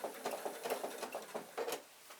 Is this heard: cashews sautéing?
no